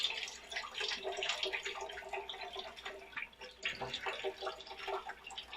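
Canned tomatoes being poured out for salsa make wet, irregular glugging and dripping splashes that continue close and fairly quiet throughout, with no talk.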